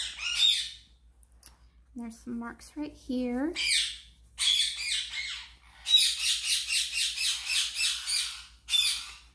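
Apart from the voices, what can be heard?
pet birds squawking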